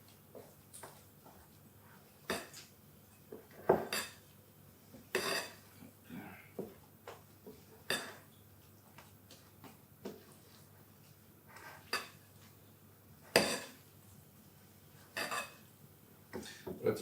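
A utensil folds whipped egg whites into chocolate cake batter in a bowl, giving quiet scraping and a dozen or so sharp clinks against the bowl at irregular intervals, with faint room noise between them.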